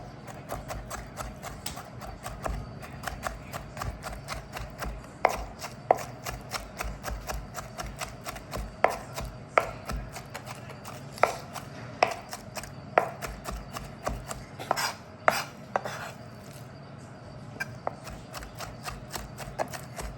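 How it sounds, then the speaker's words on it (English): Saan choy (Malabar spinach) being minced with a knife on a cutting board, a steady run of close, sharp chopping taps with louder accented strikes, continuing throughout with no talking. "this is pretty much good and well minced"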